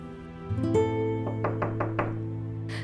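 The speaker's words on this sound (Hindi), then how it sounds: "देखा कैसे खटखटा रहा है।" A drama scene carries four or five firm knocks on a door, evenly spaced and fairly close, set over a sustained tonal musical drone.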